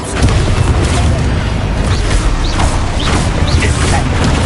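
Expulso spell blasting in Hogwarts Legacy, a loud, crunchy explosive burst amid clattering combat noise, with rapid spell effects and debris sounds layered over continuous dense battle ambience.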